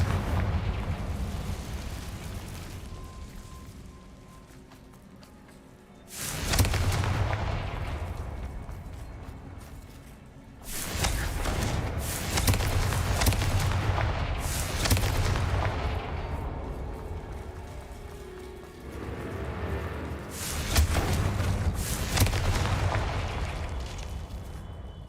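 Confringo blasting spells fired in Hogwarts Legacy, giving three big booming explosions several seconds apart, each a sudden loud burst that rolls into a long crackling, rumbling decay over a low background.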